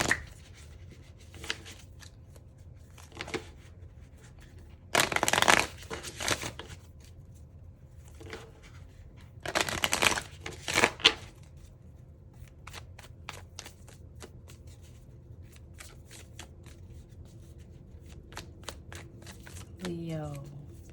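Oracle cards being shuffled by hand in two short bursts of riffling, each a few seconds long, set against a quiet room background.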